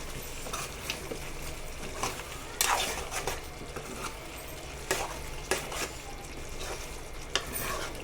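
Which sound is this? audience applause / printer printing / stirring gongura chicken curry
stirring gongura chicken curry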